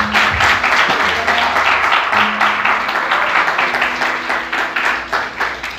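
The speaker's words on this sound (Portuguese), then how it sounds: "Quantos podem aplaudir Jesus bem forte?" A church congregation claps together during an evening Portuguese-language service, a loud, even wash of hand claps with a low sustained organ or keyboard tone underneath.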